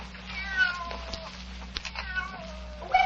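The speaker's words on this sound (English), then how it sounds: "Where you come from, you stupid cat? Go away." A cat meows several times in a short, wavering series, fairly close and clear over a low steady hum, in an old-time radio drama.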